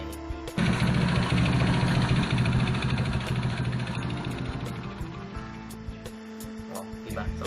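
Yamaha Mio Sporty scooter engine idling with a crankshaft fault, a loud, close, busy mechanical rattle and knocking over the engine hum that fades slightly toward the end.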